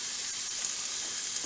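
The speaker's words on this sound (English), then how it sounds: "I'm going to throw the onions on top. There's your sizzle." Onions sizzle and crackle in hot olive oil, a steady bright hiss throughout with no talking.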